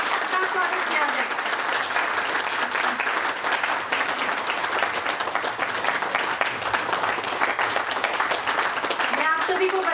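Sustained, loud audience applause in a hall welcoming a speaker to the stage at a talk on protecting the constitution. The dense clapping continues steadily for the whole stretch, with a faint voice near the end.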